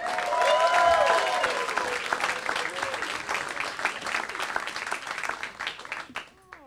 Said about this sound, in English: Big round of applause, Kelsey Caine.